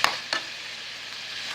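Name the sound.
onions frying and caramelizing in a pan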